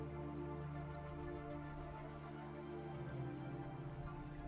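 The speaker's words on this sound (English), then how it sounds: "Get out of the rain real quick." Steady rain pattering in a video game, a soft continuous hiss of drops with a low droning background underneath, even and unbroken throughout.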